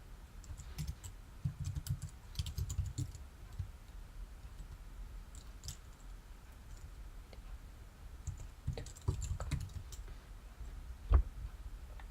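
Keys tapped on a computer keyboard while a key pair name is typed, in irregular bursts of soft clicks with quiet pauses between them and one sharper tap near the end.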